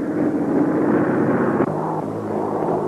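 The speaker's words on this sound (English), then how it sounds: "And now, they're arriving by airplane." A propeller airplane arrives in a 1935 cowboy sci-fi film, its engine a loud, steady drone that stays close throughout, with a faint tonal hum joining partway through and no voices.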